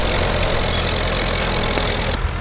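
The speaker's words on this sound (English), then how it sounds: "Robert Gardner will go on to have a reasonably good pull in the International McCormack here at the Colac" A vintage International McCormick tractor engine runs loud and close at a tractor pull, a dense steady low chugging roar that continues unbroken.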